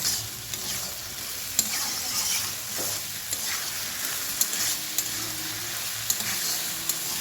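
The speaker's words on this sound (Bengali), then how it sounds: "এবারে যে মশলাটা করেছিলাম এটা দিয়ে দিলাম। চলুন এবার এটাকে কষিয়ে নিই।" Potatoes being sautéed with spice paste in a pan, a steady close sizzle and fry with occasional scraping stir clicks, no voices.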